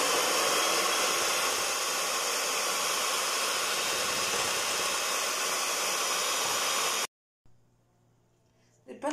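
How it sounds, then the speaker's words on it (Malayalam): A blender whirs steadily at one speed, beating oil into homemade mayonnaise, a constant hissing motor drone that runs for about seven seconds and then cuts off, leaving near silence and a faint clatter. "ഇനി അതും അതേ സ്പീഡിലിട്ട് വേണം ബീറ്റ് ചെയ്യാൻ."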